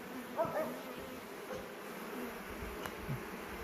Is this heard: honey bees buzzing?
yes